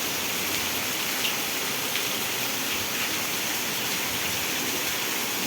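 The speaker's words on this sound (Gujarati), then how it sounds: "મસ્ત ફૂલ વરસાદ પડી રહ્યો છે" Steady, dense rainfall pours down continuously over Vejalka village, Ranpur taluka, Botad district, Gujarat, a heavy hiss of water with no voices and no pauses.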